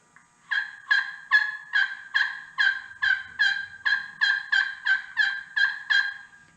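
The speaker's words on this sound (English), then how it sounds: "You gotta tilt it a little bit to get that noise." A slate turkey call played with the striker tilted produces a clear run of about thirteen evenly spaced, close yelps, each a sharp raspy note, in a steady rhythm with no talking.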